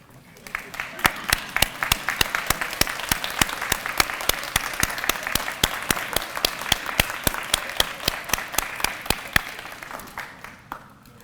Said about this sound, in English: give everybody a round of applause that helped you